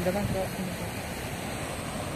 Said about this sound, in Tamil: பாருங்க இவ்வளோ தண்ணி வருது